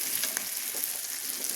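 Fish tossed into a pan of spring onions already frying, giving a steady close sizzle with light stirring scrapes and no talk.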